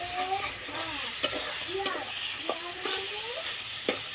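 Fish fat frying in a pan, a soft close sizzle with sharp stirring clicks at intervals and a voice faintly audible in the background.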